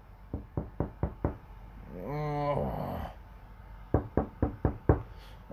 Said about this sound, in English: he hears a knock on the door